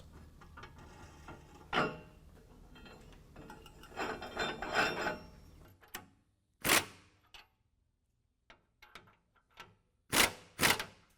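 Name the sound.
installing new U-bolts on a Pro Comp lift kit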